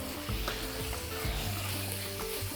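Chicken drumsticks fry in a pan with vegetables and walnuts, giving a faint, steady sizzle with a few soft stirring scrapes and no talk.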